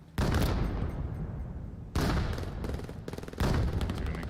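Grenade exchanges in the VR shooter VAIL, heard as three loud bursts of blasts and gunfire, each onset sudden and then tailing into a rumbling, crackly decay.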